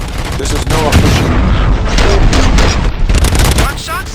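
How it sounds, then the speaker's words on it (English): Gunfire in the video game Robocop Rogue City, a dense, continuous barrage of loud bursts and booms layered with voices talking throughout. "Gunshots? What's going on?"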